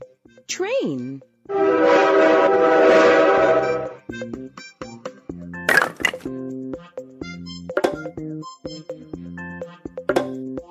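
A vehicle sound puzzle toy plays its electronic train piece, a loud close tone and chugging effect followed by a tinny synthesized tune, with a voice chiming in briefly.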